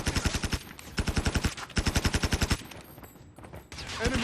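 Rapid automatic gunfire rattles in a team deathmatch video game, coming in three loud, tightly spaced bursts separated by brief pauses, followed by quieter scattered game noise.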